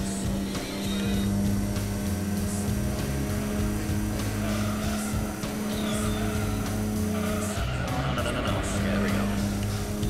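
A race car in Gran Turismo 2 keeps up a constant engine drone with tires squealing through corners, and a voice talks over the game sound throughout.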